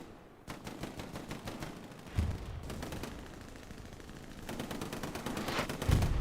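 Rapid bursts of automatic machine gun fire in a multiplayer shooter game scrim, crackling shots in quick repeated volleys with a couple of heavier impacts, loud and close throughout with no talk.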